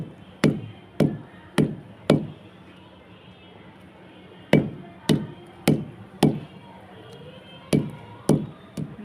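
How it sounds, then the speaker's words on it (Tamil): A hammer taps well-dried material during manual work: about fourteen sharp, close strikes that come in quick clusters of two to four, with short pauses and a faint background hum between them. "சுத்தியல் எடுத்து இந்த மாதிரி ரெண்டாக நல்லா காய விட்டு இந்த மாதிரி தட்டணும்"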